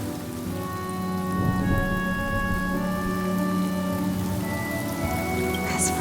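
Steady rain from the video game Honkai Star Rail, a continuous close downpour hiss with faint distant rumbles, set under sustained musical tones and no talking.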